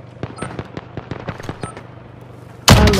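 A deployable gun in the Warzone video game fires a rapid burst of a dozen or so sharp shots at fairly even spacing. A loud, harsh blast of noise cuts in at the end, and no one speaks.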